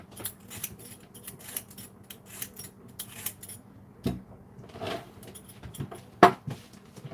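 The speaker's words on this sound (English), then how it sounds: "Now I am peeling carrots." Carrots are peeled by hand, giving soft, irregular scraping strokes close by, with one sharper knock near the end and a quiet background with no speech.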